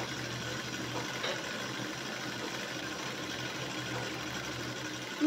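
Sewing machine stitching a shirt collar, running in a continuous fast mechanical whir at moderate level with no pauses.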